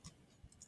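A single sharp computer mouse click near the end of a short, quiet stretch, with a fainter click earlier, while attaching a policy in the AWS console.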